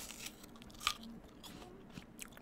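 A single crisp bite into a Golden Delicious apple, a short crunch near the middle followed by faint chewing, close up and quiet.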